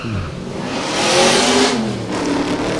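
Race car at an autosprint launching hard from the start line, a loud continuous engine roar that rises as it accelerates away, with no talk over it.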